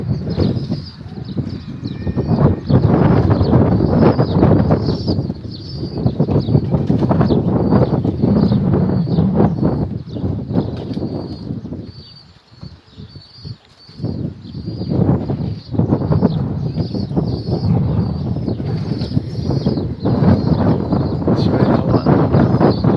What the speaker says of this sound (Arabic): شوية بيها هوا، الهوا يعني غربي.